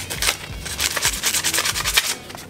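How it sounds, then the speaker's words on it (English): 60 grit sandpaper scrubs back and forth on the end of a car control arm part in quick, rhythmic rasping strokes, close and steady. "Just some 60 grit sandpaper."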